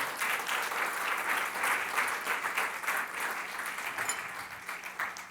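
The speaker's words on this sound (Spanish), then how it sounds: "Démosle un aplauso al Señor en esta hora." Church congregation gives a round of applause, dense rhythmic clapping that comes in pulsing waves, loud and close, with no speech over it.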